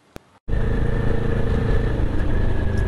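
A 1250cc adventure motorcycle engine drones loud and steady while riding, preceded by a brief click and a moment of near silence before the engine and wind noise cut in abruptly.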